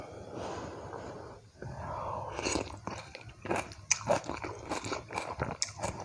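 Close-up eating of instant sukiyaki with glass noodles: soft, wet chewing and irregular bites, with breaths and small mouth sounds, loud and intimate, without talking.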